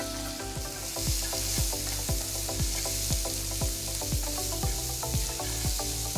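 Chopped onion fries in a pan with mustard seeds and asafoetida, a dense continuous sizzle broken by regular scraping strokes of a spatula stirring the mix.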